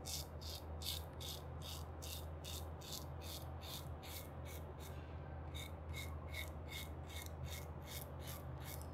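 An open comb safety razor scrapes through lathered stubble in a steady run of short rasping strokes, about two per second, close and quiet over a low background hum.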